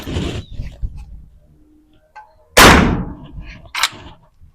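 Rifle shots fired at a target during a Big Game marksmanship contest with classic air rifles, two sharp loud cracks about a second apart, each with a short decaying tail, amid quiet background between shots.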